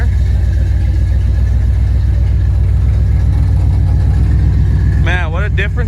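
A 1977 Dodge D200 engine runs at a steady high idle after a carburetor swap, a loud, even low rumble that holds throughout, with a voice speaking briefly near the end.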